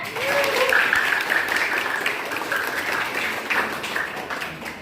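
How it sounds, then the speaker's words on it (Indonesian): Students in an Indonesian classroom clap together in a burst of applause, loud and close at first and then gradually thinning out, with a few voices mixed in. "Berikan aplaus dulu semuanya."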